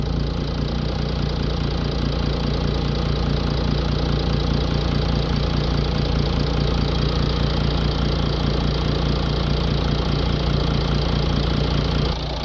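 A Mercedes CLS V6 with a blocked diesel particle filter idles steadily, a constant low rumble with an even mechanical patter and no revving, engine alone without talk.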